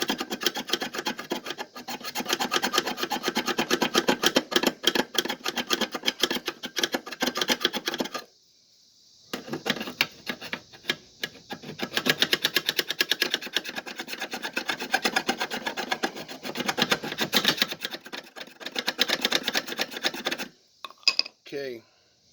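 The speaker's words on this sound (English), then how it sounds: "the edge of a chisel works real good. Scrape the paint off real quick" A chisel edge scraped hard across painted metal on a 1964 Chevy C10 pickup during a bucket seat install, a loud, continuous rasping in rapid strokes with one short pause midway, ending in a few scattered scrapes.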